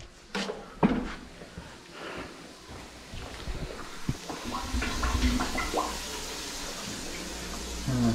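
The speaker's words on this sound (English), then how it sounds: "Toilet just went down." A toilet flushing and draining during work on a clogged drain, with bursts of gurgling, rushing water and sloshing that build into a louder churning drain toward the end.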